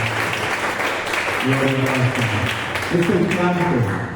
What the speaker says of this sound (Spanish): Vamos a darle un fuerte aplauso a Dios.